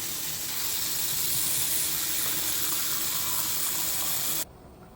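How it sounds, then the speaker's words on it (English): Water running steadily from a tap, a continuous hissing gush that stops abruptly near the end. "I'll now soak this in water."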